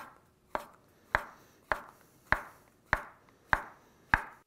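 A knife cuts pre-blanched asparagus on the bias against a cutting board, giving seven crisp, evenly spaced chops about every half second, close and clear, with a quiet ring after each stroke and no talking.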